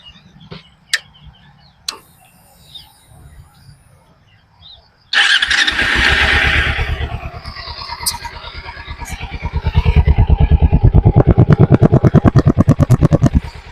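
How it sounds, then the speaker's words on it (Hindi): Twin-cylinder engines of a Royal Enfield Interceptor 650 and a Kawasaki Ninja 300: scattered clicks give way to an engine firing up and idling, then a louder, rapidly pulsing run of revs near the end. "एक बार आप इन दोनों बाइक्स का साउंड सुन के देखिए।"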